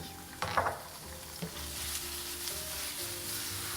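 Madras curry with vegetables and tofu sizzles steadily in a pan, with a couple of sharp stirring clanks early on and then a continuous, close frying hiss.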